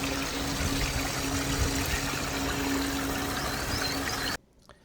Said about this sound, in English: the streams coming off the hills, pure clear water.